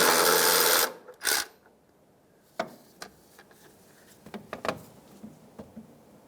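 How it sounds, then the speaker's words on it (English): A loud burst from an electric power tool working a bolt on a 2003-2011 Honda Element's inner tie rod, then a second short whir, followed by scattered metallic clicks and taps. "we've just switched over to an electric tool here just to be a little bit quicker and easier on that bolt"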